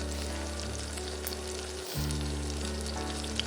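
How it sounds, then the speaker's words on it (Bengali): Fennel seeds hit hot oil for tempering and a steady loud sizzle of frying fills the whole stretch, briefly cut once, with no talk over it. "আমি মৌরি দেব এবার। মৌরি ফোড়নে মৌরিও দিচ্ছ।"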